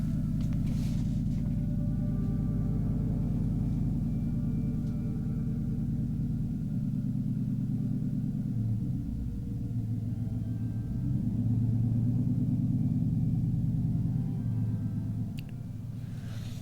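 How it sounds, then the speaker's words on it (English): A very loud truck passing nearby, a heavy low engine rumble that holds steady and swells for a few seconds midway before easing, with no talk over it. "Loudest goddamn truck on the planet, I swear to you."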